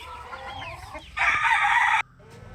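Desi hens in a coop perched up to lay eggs, with a rooster's loud crow bursting in over steady nearby clucking, then cutting off abruptly to quieter hen chatter.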